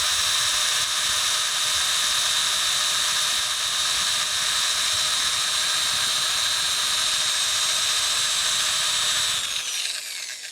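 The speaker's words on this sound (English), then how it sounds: "As I sand this bottom on here, I'm going to sand on the 3 to 4 o'clock side of my disc" A power drill spins a sanding disc against the bottom of a turned wooden bowl, giving a loud, steady high-pitched whir with grinding hiss that runs unbroken for about nine seconds, then cuts off abruptly near the end.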